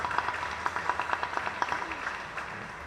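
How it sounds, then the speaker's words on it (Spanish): Applause for the bishop at a Mass rises from a congregation in a church, steady rhythmic clapping from many hands at moderate distance, sustained without talk. "Vamos a recibirlo con un fuerte aplauso."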